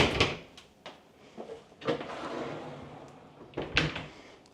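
A washing machine door is pulled open in a hotel apartment, making a few soft clunks and knocks spread over several seconds, fairly quiet against a faint room background.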